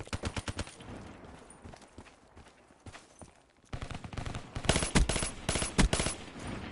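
Video game gunfire shot through a wall, with bursts of rapid automatic shots at the start, sparse pops in the middle, then louder, close rapid volleys at the end, no talk.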